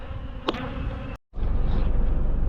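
Agitated honey bees swarming around disturbed hives, a thick, continuous buzzing close by, broken by a brief sharp tap and a momentary dropout before the droning resumes louder.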